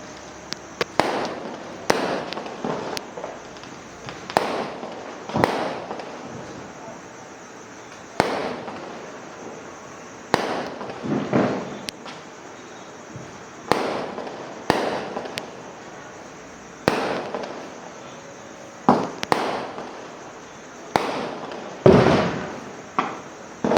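Diwali firecrackers and fireworks burst one after another in sharp, loud cracks and pops, spaced irregularly a second or two apart, some ringing briefly, heard outdoors without talk.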